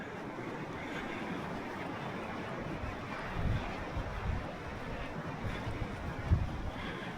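Wind buffets the microphone on the Berwickshire coastal path above the sea, a continuous rough roar with occasional stronger low gusts and a faint surf-like wash beneath, no voices.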